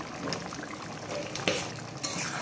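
Salted meat is stirred and fried in a pan, with a close frying hiss broken by a couple of sharp scrapes of the spoon against the pan.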